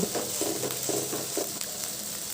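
Garlic and ginger paste frying in a pan over medium heat for a chicken roast, a faint, steady sizzle with a few soft stirring scrapes.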